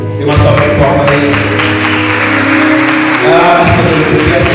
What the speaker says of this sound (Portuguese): dê uma salva de palmas aí